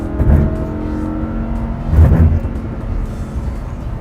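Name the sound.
Lamborghini Huracán engine revving in race mode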